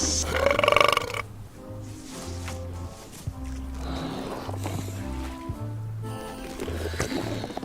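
Belching from a burping contest in the video game Return to Monkey Island, a few deep, drawn-out burps in bursts with short gaps, alongside game sound effects.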